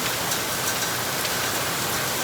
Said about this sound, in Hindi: अरे क्या ही बारिश हो रही है।